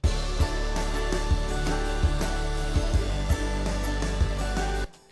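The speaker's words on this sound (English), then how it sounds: "Basically, just makes it sound like the bass is distorted." A music track with a heavy, impossibly distorted bass effect switched on, steady thick low end with rhythmic drum hits throughout, cutting off abruptly near the end.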